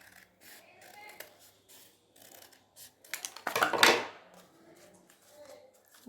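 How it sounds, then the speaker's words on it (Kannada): Scissors cut through a paper cup for a child's craft dustbin, a quick run of crisp snips building to a louder crunching cut, close up, with quiet room sounds around it. "ಲೋಟ ಕಟ್ ಮಾಡ್ಕೊಬೇಕು."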